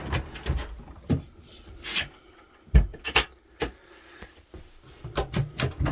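Drawers slide open and shut several times inside a 2020 Sprinter 170 4x4 camper van, with sharp wooden knocks and thumps spaced irregularly, close by in a quiet space.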